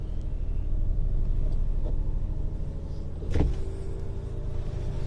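A 1993 Lincoln Town Car V8 idles steadily, a continuous low engine rumble with a brief clunk or bump about three seconds in, heard close and without talk.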